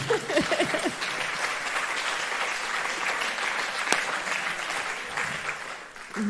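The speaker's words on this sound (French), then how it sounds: "On peut l'applaudir à nouveau." An audience at a cooperation conference opening applauds a philosopher's talk with steady, sustained clapping that fills the room for several seconds before tapering slightly.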